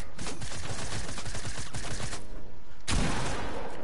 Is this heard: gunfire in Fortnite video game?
yes